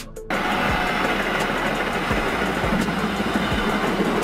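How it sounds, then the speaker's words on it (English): An underground subway train runs with a continuous loud roar and rumble, punctuated by periodic wheel clacks over rail joints, close and steady throughout. "Subway trains run underground and are a common public transport system in large cities."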